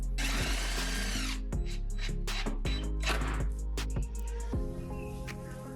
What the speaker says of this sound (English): I'm actually going to pre-drill and place the corner brackets